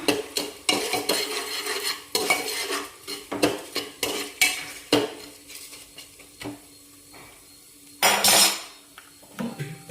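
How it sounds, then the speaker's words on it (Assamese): Sugar frying with cashews and raisins in a pan, dominated by rhythmic metal spoon scrapes and clinks against the pan over a light sizzle, close and fairly loud with a final louder burst. "চেনি দি অকণ দি ভাজিম"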